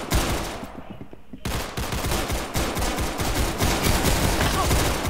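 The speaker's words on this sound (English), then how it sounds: "I was literally just shooting" Rapid Uzi gunfire in the Roblox game Arsenal rattles out in dense, continuous bursts with a short lull near the start, loud and close amid game noise.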